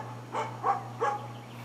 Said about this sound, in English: hopefully you guys can still hear me over the barking